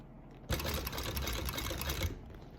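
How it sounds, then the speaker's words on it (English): A sewing machine stitches a mini bucket bag in one steady, rapid whirring run of about a second and a half, starting abruptly and stopping cleanly against a quiet room. "We're going to sew till we get down to where we meet our waterproof canvas."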